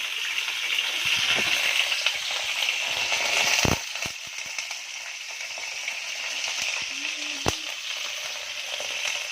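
Onions and green chillies frying in about ten spoons of hot oil, producing a loud, steady sizzle that eases slightly partway through, broken by a couple of sharp utensil knocks.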